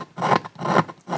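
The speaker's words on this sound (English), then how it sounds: "grinding this down till you get really close" A bone saddle for a 1935 Martin D-28 acoustic guitar being ground down by hand during repair, producing three close, steady rasping strokes in a back-and-forth rhythm with no talk.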